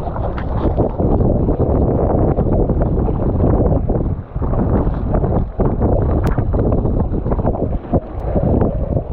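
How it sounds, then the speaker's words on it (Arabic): Strong wind on the coast of Mogador island in Morocco buffets the microphone, producing a loud, continuous roaring rush with gusty dips and swells throughout. "كما تلاحظوا معنا كاين واحد شويه ديال الريح اليوم"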